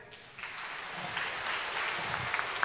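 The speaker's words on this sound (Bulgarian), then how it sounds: "Аплодисмент!" An audience applauds in Hall Bulgaria, a concert hall: steady, dense clapping from many hands, moderately loud and sustained throughout with no speech on top.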